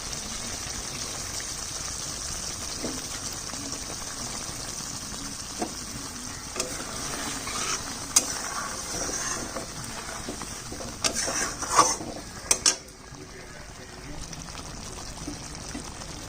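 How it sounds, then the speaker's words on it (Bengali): Milk goes into a hot cooking pan for a vegetarian masala paneer and is stirred, giving a steady sizzle and soft liquid swirling with occasional clinks of the spoon against the pan, while someone talks nearby. "এবার দিয়ে দিচ্ছি দুধ।"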